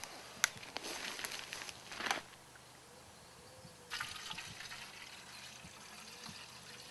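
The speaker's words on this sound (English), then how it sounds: "So put your water in." Water trickling and splashing into a Kelly Kettle outdoors in woodland, with a few brief louder bursts of pouring over a quiet, steady flow.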